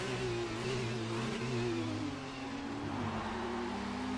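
Simulated Formula car engine in the F1 2019 video game stuck in a revving glitch, a loud sustained high drone with wavering pitch that holds steady throughout.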